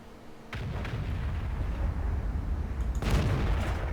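A tank cannon fires in the World of Tanks video game, a sudden booming blast followed by a low rumbling roar, with a second loud burst near the end over continuous battle noise.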